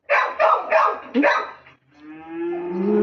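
Four quick, loud barks in a row, like a dog, are followed after a short pause by a long, rising, drawn-out vocal tone; no clear talking is heard.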